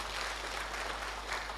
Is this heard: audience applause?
yes